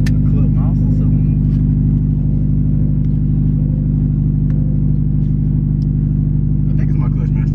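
A manual car being driven without the clutch, its engine giving a loud, steady low rumble throughout with little change in pitch, heard from inside the cabin.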